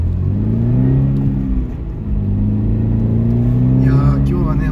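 A Subaru BRZ front-engine, rear-drive sports car driving downhill at night on a national road, its engine droning steadily inside the cabin, loud and close with slight pitch shifts.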